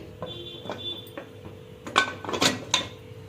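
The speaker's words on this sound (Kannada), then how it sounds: "ಕುಕ್ಕರ್ ಮುಚ್ತಾ ಇದ್ದೀನಿ" Metal clanks and clinks from a pressure cooker lid being handled and closed, a few light taps early then a cluster of louder knocks near the end, with no voices.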